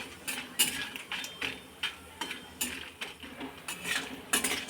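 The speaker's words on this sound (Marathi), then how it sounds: "आणि मस्त असा खमंग होईपर्यंत तेलामध्ये हा तळून घ्यायचा आहे" Asafoetida and turmeric fry in oil in a pan while a spoon scrapes and taps the metal in irregular clinks, over a soft low sizzle.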